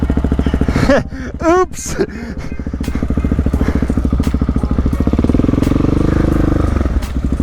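A supermoto motorcycle rides off-road, its engine a steady close rumble running through nearly the whole stretch, with brief talk near the start and a few clatters over the drone.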